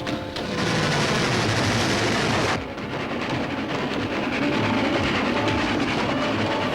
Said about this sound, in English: why'd you stop that train?